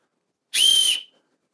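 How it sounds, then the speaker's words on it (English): A single short, loud, shrill blast from a survival whistle out of a cheap Amazon survival kit, about half a second long, heard alone against silence. "Comes with another survival whistle."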